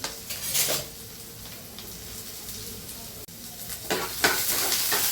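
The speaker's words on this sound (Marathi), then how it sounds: "इथे छान कांदा फ्राय करायचा, सोनेरी कलर येईपर्यंत कांदा फ्राय करायचा" Onion frying in a pan gives a steady sizzle, joined by clattering stirs and scrapes of a spoon against the pan in short bursts at the start and near the end.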